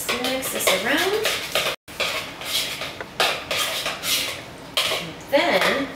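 Chicken is tossed with seasoning in a bowl, giving close, irregular clinks and scraping clatter of a utensil against the dish, with a voice speaking between the knocks.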